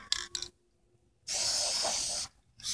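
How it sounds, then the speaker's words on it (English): Spray paint hisses onto an egg: two short bursts come first, then a pause, then one sustained, loud, close spray lasting about a second before it cuts off and briefly starts again. "Spray paint a little more."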